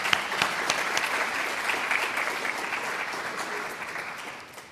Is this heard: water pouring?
no